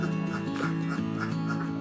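Ducks on a laying-duck farm quack in a steady, overlapping chorus that stays loud and close throughout, with no talk over it.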